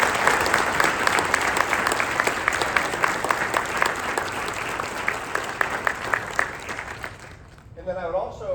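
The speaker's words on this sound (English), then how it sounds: "join me in a round of applause for the adult volunteers" An audience at an Eagle Scout ceremony gives a round of applause for the adult volunteers, with full, steady clapping for about seven seconds before it dies out and a voice begins speaking.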